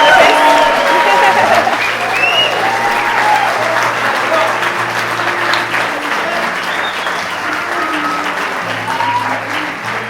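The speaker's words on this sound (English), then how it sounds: "We'll give them a round of applause." Wedding guests break into warm applause for the newlyweds, the clapping loudest at the start and easing slightly as it carries on steadily for about ten seconds.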